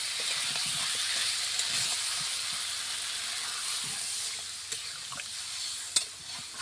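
Broth poured into a hot pan of Bengali fish curry with desi elephant foot yam, giving a steady, close hissing sizzle throughout, with a few faint stirring clinks near the end.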